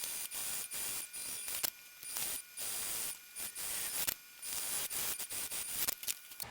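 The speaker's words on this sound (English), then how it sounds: "So let's sew the sides, both sides, and along the bottom." A sewing machine stitches the sides and bottom of a tote bag in short bursts, its mechanical whir stopping and starting repeatedly up close with no talking.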